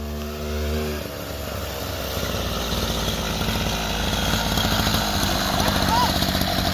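A 49cc mini chopper's small engine runs steadily as it rides past nearby, holding a fairly even buzzing drone with slight rises toward the end as it comes to a stop.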